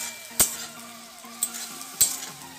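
Masala sizzling in a pan while being stirred for veg Maggi noodles, a low steady fry with three sharp scrapes or clinks of the utensil against the pan, close by and with no talking.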